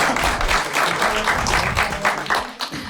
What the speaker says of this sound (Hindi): ठीक है नाइस ताली बजाएंगे